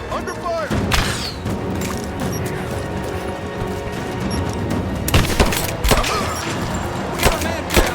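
A loud firefight in the video game Rise of the Tomb Raider brings repeated gunshots and sharp bursts over a dense layer of clanking and crashing. Several shots stand out as they cluster near the end.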